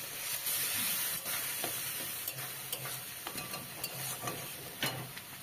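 Spice paste mixed with water is poured into a hot pan of tomatoes and turmeric for a beans curry, giving a steady, close sizzle with scattered stirring scrapes and clinks throughout.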